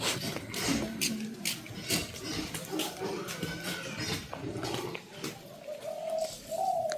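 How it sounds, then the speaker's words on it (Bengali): Doves coo in a foggy, damp rural setting, soft low repeated calls mixed with other outdoor noise and occasional voices nearby. "যে দুইটা ঘুঘু পাখি"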